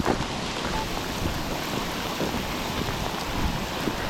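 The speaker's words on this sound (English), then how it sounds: "Real rain. This is a downpour." Heavy monsoon downpour pours steadily on an outdoor walk, a dense, loud, unbroken hiss of rain with no letup and no voices.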